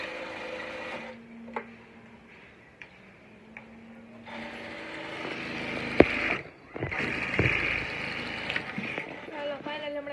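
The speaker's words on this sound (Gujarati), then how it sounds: "જો અત્યારે સિલાઈ મરાય." A sewing machine stitches clothes in a home setting, giving a mechanical whirring and ratcheting that rises and falls with a few sharp clicks and knocks, while a voice speaks intermittently nearby.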